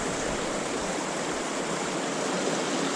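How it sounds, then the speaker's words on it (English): A small backyard creek runs over rocks, a steady, close rush of burbling water with no other sounds. "Got a beautiful little creek little thing running down over the rocks and things down here in their backyard."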